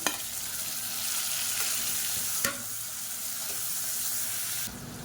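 Onions and tomato sautéing in a pan for a soya chunks kurma, a steady broad sizzle with stirring clatter, close and continuous with no talk.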